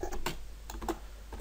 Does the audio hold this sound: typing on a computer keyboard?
yes